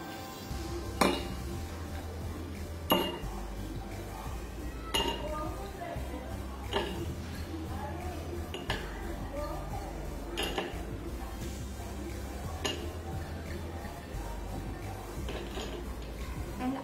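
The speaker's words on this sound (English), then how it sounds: "I'll take a glass and put some ice cubes on this." Ice cubes dropped one by one into a glass for a water vapour experiment, giving sharp clinks roughly every two seconds over a steady low background hum, with faint talk underneath.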